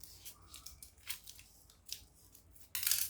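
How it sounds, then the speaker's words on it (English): Scissors snip through lace fabric for a bustier gown's yoke in a few quiet, close, separate cuts, ending in a longer, brighter rasping slice. "I'm going to go ahead and cut it out from here"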